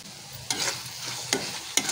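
Spices with ginger, salt and garam masala being sautéed in a pan, a low sizzle broken by three quick scraping stirs of a spatula.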